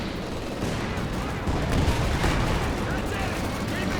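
Tank cannon blasts and gunfire from the World War II strategy game Company of Heroes 2 form a dense, continuous wall of battle noise that intensifies midway and stays loud throughout.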